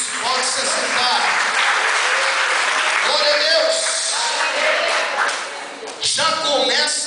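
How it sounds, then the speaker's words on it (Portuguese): A church congregation applauds together, a loud sustained wash of clapping with voices calling out over it, dipping briefly near the end before swelling again. "Dê uma salva de palmas para Jesus"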